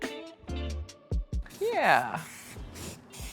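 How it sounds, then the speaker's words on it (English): Bursts of spray paint hissing onto a foam paper flower, several short sprays and a longer one, close and loud, with someone talking between them. "And another shade of spray paint."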